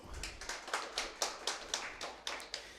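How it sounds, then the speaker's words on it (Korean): A small lecture audience at a customs-broker exam prep class claps in a brief, uneven round of separate hand claps, moderately close and without talk over it. "박수!"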